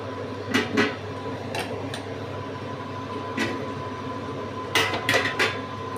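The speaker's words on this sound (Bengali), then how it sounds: "আবার ঢাকা দিয়ে দেবো নেড়ে দিয়ে" Bottle gourd greens cooking with poppy seeds get stirred in a pan, with several sharp metallic clanks from the utensil and lid over a steady low hum of the stove, with quiet gaps between.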